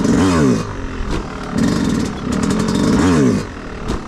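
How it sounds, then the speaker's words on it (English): A dirt bike engine revs and bogs in rising and falling surges while the rider holds a slow 12 o'clock wheelie, loud and close, with a brief clatter between the throttle bursts. "you can ride a wheelie for about, I don't know, 10, maybe 5 feet, like this"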